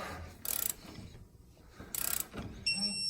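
A ratchet tightens the tie rod nut on the pitman arm of a Land Cruiser steering setup, with two short bursts of quick ratcheting clicks, close and fairly quiet, separated by a pause.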